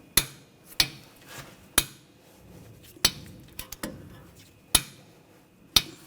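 Sharp metallic clicks and knocks ring out while a wrench torques the front wheel hub bolts on a 2007-2013 BMW X5, about seven separate hits spaced irregularly, close and distinct over a quiet garage background.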